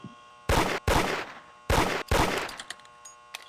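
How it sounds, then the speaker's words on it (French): Gunfire from a video game: two quick pairs of loud, sharp shots, each pair fired in rapid succession about a second apart, followed by a few fainter scattered pops and clicks near the end. "Das, dépense tous tes balles"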